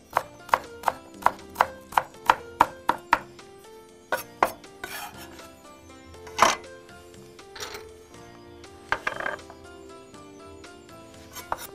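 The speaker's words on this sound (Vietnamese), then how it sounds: "Ngò om và ngò gai chúng ta không cắt nhuyễn, chúng ta chỉ cắt khúc thôi." A knife chops rice paddy herb and sawtooth coriander into short pieces on a board, a steady run of close, crisp thuds followed by scattered, irregular cuts.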